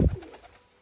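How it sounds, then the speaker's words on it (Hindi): A single short pigeon coo from a high-flyer pigeon pair, close and fairly loud, trailing off into quiet. "ये रामे की मादी पकड़ी, अब इधर के साइड से छोड़ेंगे रामे की मादी को।"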